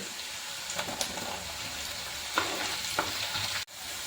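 Long-sliced ginger and garlic fry in a pan for a snakehead murrel fish curry in a soft, steady sizzle, broken by a few light stirring clicks and a sharp knock near the end.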